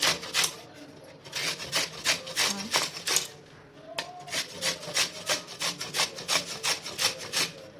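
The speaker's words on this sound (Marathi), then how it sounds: "कैऱ्या आता या किसून घेऊया" Raw mangoes, already peeled, are rubbed against a kitchen grater in steady rasping strokes. The scraping repeats quickly and fairly close, with a brief pause midway, and no voices are heard.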